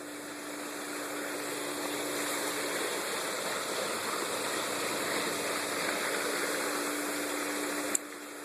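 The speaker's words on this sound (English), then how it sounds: "I'm going to let this run for 2 minutes on rinse, just to rinse out any sediment in the fresh sand in this filter" A Hayward S220T sand pool filter with fresh sand runs on rinse, giving a steady, loud, unbroken rush of flowing water with a constant motor hum beneath and one brief click near the end.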